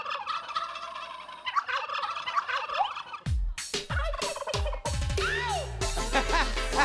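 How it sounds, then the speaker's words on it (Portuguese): Turkey gobbling, loud and repeated in bursts, mixed with music and sharp percussive hits during a turkey dance segment. "O peru, velho."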